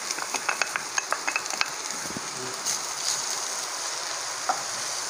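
Onions for egg cutlet sizzle in a pan while a spoon stirs them, a few light scraping clicks early on over a steady frying hiss.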